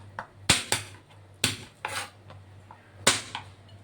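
Knife mincing garlic on a cutting board, a handful of sharp irregular chopping taps, quiet and close with gaps between strokes.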